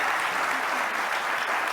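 Steady, dense audience applause fills a televised tribute, a continuous wash of clapping with no breaks and no voices over it.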